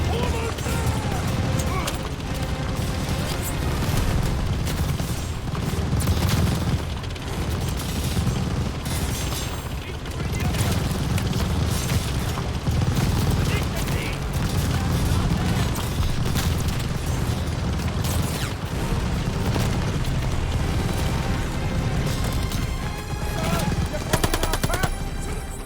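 Machine gun fire fills a Call of Duty: Vanguard battle beside a half-track, with dense automatic bursts, booms and mechanical clatter that run without pause over a steady rumbling bed.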